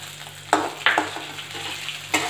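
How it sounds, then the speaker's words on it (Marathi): Ginger, green chili and fresh peas frying in hot oil for a pea samosa filling: a steady sizzle with a few sharp scraping stirs of a spoon, close and alone, no talk. "आलं आणि हिरवी मिरची छान तळली गेली पाहिजे तेलामध्ये"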